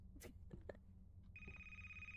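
In the game A Place, Forbidden, a phone's electronic ring sets in after a few soft clicks and sustains evenly, quiet and somewhat distant over a low droning background.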